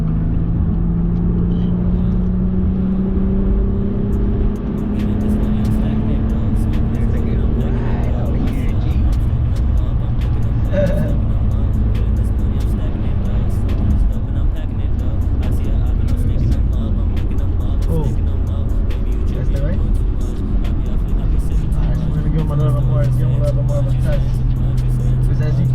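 A Chevy car driving along a road, with a steady engine and tyre rumble carried continuously under light talk.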